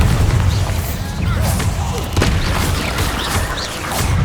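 Bombarda blasting-spell explosions in Hogwarts Legacy, deep booming blasts with crackling debris rolling through a busy combat mix, several impacts in a few seconds, loud and close.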